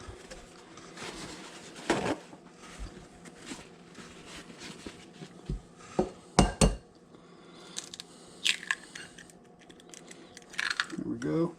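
A bluefish patty mixture with egg is mixed in a bowl, giving sparse close clinks and scrapes of a utensil against the bowl, with a few sharper knocks and someone talking intermittently.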